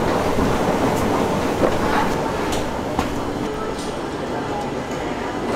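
A train rolls along toward a central station, a steady loud rumble with faint clicks and rattles throughout the ride, with no clear talking over it.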